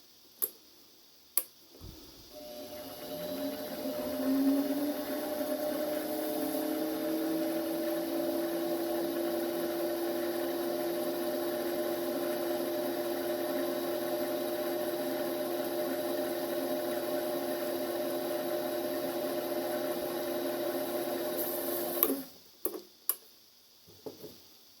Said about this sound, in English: The next step is I'm going to turn on the lathe.